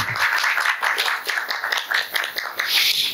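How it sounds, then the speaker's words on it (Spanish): Applause for a guest of honor at a panel discussion, many hands clapping steadily and fairly loudly for the whole stretch, broadband and dense with no speech over it. "Un aplauso para nuestro invitado estrella"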